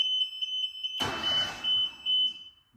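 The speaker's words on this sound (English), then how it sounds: "we can start the engine" A 22-year-old Walker MTGHS mower engine cranks and catches, then runs with a rough, rumbling idle alongside a steady high-pitched whine.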